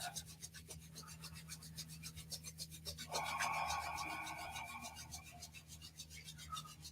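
Hands rub together in quick, even back-and-forth strokes, a soft dry rasping close by that swells briefly louder partway through a yoga practice.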